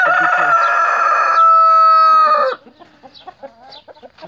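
A Brahma rooster crows loudly and close by, one long drawn-out call that cuts off sharply, followed by soft clucking.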